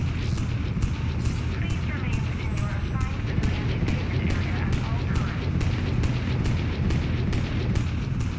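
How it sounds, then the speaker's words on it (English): A heavy cannon fires in the video game Mass Effect 3 as a rapid, regular series of sharp blasts over a dense, low rumble that continues throughout. "Sounds like a heavy cannon, or a heavy gun of sorts."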